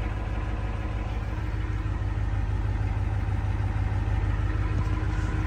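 A truck fitted with Super Duty axles idles as it warms up, its engine giving a steady, close, low rumble with a faint knocking texture throughout and no talking.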